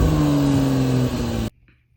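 A 2025 Porsche 911 with a manual gearbox revs loud and close, its engine tone holding steady and then falling for about a second and a half before cutting off into near silence.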